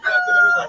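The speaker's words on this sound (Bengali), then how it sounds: "সুন্দর সুন্দর মুরগি হাঁস দেখতে পাচ্ছেন দর্শক" Chickens and ducks cluck and call at a rural hill poultry market in Rangunia, Chittagong, a short close burst of fowl sound amid market noise.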